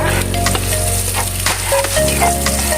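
Garlic, onion and ginger sautéing in a pan for chicken liver adobo, a close, loud hiss with scattered crackles and scraping, backed by steady tonal background music.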